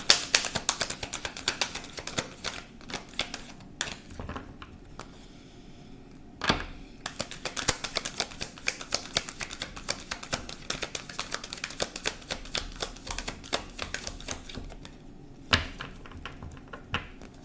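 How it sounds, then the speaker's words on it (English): Tarot cards are shuffled by hand in a quiet room, a long run of soft riffling and sharp papery clicks and taps with brief pauses between bursts. "I will be putting them both back and shuffling again."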